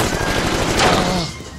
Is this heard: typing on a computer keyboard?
no